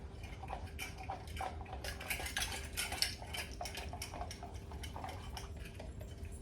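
A utensil stirs a cornstarch slurry in water, clinking rapidly and repeatedly against the side of a bowl in a steady, close tapping rhythm with no talking.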